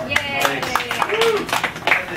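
Audience clapping for a comedian's 29th birthday at a comedy venue, scattered irregular hand claps from a small crowd, close and fairly loud, mixed with voices and laughter.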